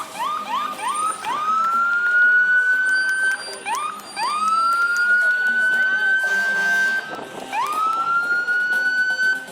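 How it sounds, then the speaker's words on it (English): Sheriff's department vehicles sounding sirens in a St. Patrick's Day parade, rising electronic wails that climb and hold, repeated three times up close, with bursts of horn-like blasts between them. "You think with all those sirens they can get through the red light."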